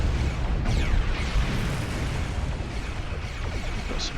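A sustained, rumbling boom from a starship explosion in Star Trek Online, a broad roaring blast washing over the whole stretch with no talk.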